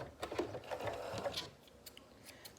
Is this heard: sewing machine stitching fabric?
yes